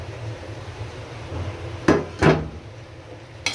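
Goat head meat dropped into spiced masala in a cooking pot, two quick clattering thuds close together and a later faint knock, heard close over quiet kitchen background.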